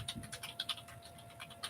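Keys on a computer keyboard are tapped in quick irregular clicks, close and faint, with a quiet room hum underneath and no talking.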